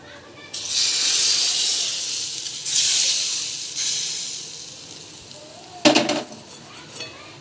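Loud hissing sizzle as a spoonful of hot oil hits wet moong dal pakoda batter, swelling and fading over several seconds, with a brief clatter near the end.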